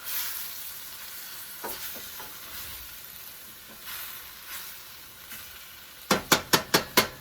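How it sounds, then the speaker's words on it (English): Spinach stirred in a sizzling pan, a soft steady hiss with faint scrapes, ending in a quick series of five sharp taps close by. "I'm going to add in the spinach. And just stir that around until it starts to wilt"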